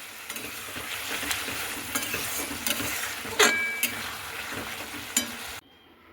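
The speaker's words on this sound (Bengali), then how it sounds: "হালকা করে নাড়াচাড়া করে নেব" A Malabar spinach curry, with sugar just added, is gently stirred in a pan, giving a soft sizzle and scraping with occasional light clinks of utensil on metal. The sound cuts off abruptly near the end, leaving near silence.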